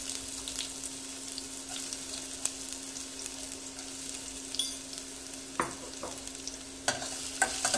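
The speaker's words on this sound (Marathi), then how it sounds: "आणि कांदा थोडासा परतून घेऊ।" Chopped onion sizzles and fries in hot oil in a cooking pot for Kolhapuri misal, a soft steady crackle with occasional stirring scrapes and clinks, no talking.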